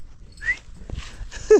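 A dog gives a couple of brief whines and yelps outdoors at a family home, short high-pitched cries separated by shuffling and quiet movement, fairly close and moderately loud.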